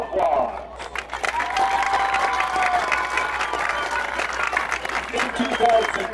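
Crowd at a high school football game applauding and cheering for an honored football official, sustained clapping and shouts mixed with an announcer's voice over the stadium noise.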